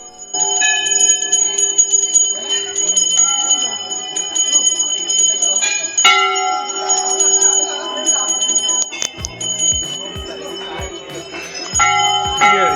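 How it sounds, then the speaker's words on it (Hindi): Many small bells hung at the Golu Devta temple in Kumaon ring together, layering bright metallic tones. Overlapping strikes and long sustained rings continue loudly and densely throughout, with a few low thuds near the end. "बड़ा इंटरेस्टिंग मंदिर है। घंटियां ही घंटियां बंधी हैं"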